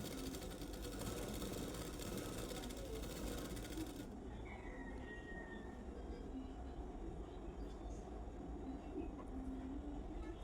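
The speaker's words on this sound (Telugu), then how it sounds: "ఇలా లైనింగ్ పైన స్టిచ్ వేయాలి." A sewing machine runs steadily while stitching the lining of a blouse, a continuous mechanical whir that is louder for the first few seconds and then carries on more quietly.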